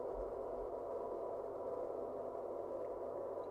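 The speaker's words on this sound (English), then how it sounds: "Celestial white noise." Steady, hissing white-noise drone meant to evoke space, a constant broadband wash heavy in the low-mid range, running unbroken and fairly quiet from start to finish with no voices.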